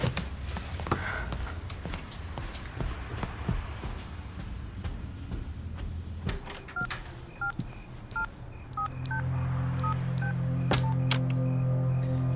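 A telephone is dialed, with a quick series of short, evenly spaced keypad tones over a low room hum and scattered clicks, with no talking.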